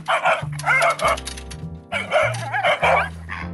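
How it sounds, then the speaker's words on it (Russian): A pig at a fence makes sharp, bark-like grunts at dogs, a rapid series of loud, close yelping bursts in two clusters with brief pauses between them. "Свинья лает на собак."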